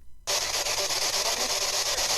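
SpeakJet sound from a Spirit Box ghost box app bursts in after a brief silence as a loud, dense wash of harsh static-like noise. It holds steady and continuous until the end, with no one talking.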